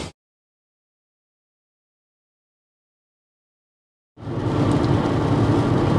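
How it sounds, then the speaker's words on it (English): Rain while driving a car on a Kentucky road: about four seconds of silence, then a steady, loud wash of rain and road noise with a low rumble suddenly starts and fills the rest. "here in Kentucky it's raining"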